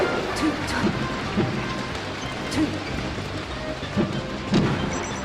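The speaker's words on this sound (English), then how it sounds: "The Thunder Sticks. I hear them coming from the crowd." Thunder sticks banged by the crowd at a Super Smash Bros. Melee esports tournament, a steady rattling din of many plastic clappers with periodic louder bursts, filling the arena throughout.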